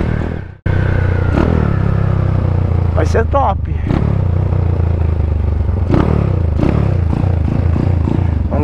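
A Honda CBX Strada 250cc motorcycle idles and revs with a steady close engine drone, its pitch rising and falling through several throttle blips, while someone talks over it.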